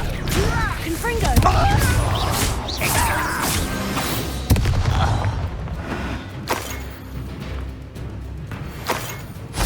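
A fiery Confringo spell explodes in Hogwarts Legacy with booming, crashing impacts and whooshes, while a voice calls out over the game action.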